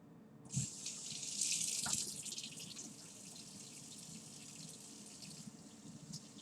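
Kitchen tap runs into a sink while peppers are washed under it, a steady close hiss of water with a splashy burst at the start and soft handling sounds, no talk.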